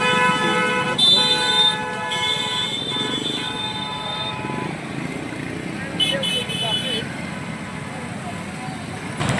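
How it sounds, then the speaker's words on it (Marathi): Congested road traffic on the way to a village fair, with several long, loud vehicle horns blaring in overlapping bursts over engine rumble and crowd noise, and people talking nearby. "किती ट्रॅफिक लागलंय."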